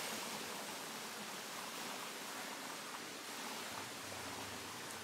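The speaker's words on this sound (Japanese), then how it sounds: "で川が流れてる。" River water flowing steadily near a lakeside campsite at Lake Onneto in Hokkaido, a continuous broadband rush with no breaks, fairly close and filling the scene, no voices.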